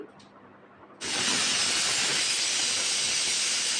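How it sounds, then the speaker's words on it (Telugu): A pressure cooker cooking dal in a home kitchen lets out its whistle: after a second of quiet, a sudden loud, sustained hiss of escaping steam runs on steadily. "కుక్కర్ కూడా పెట్టేశాను కదా విజిల్ వచ్చేసింది"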